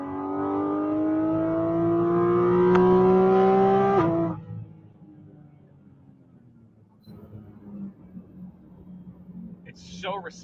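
A sports car engine revs hard for about four seconds, its pitch climbing steadily before cutting off abruptly and dropping to a quiet idle, with a voice speaking near the end.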